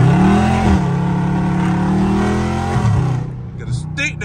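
A loud Dodge Charger Scat Pack accelerates hard in traffic, its deep engine roar rising and dropping through quick gear shifts, close and dominant before easing off, with a voice briefly audible at the end.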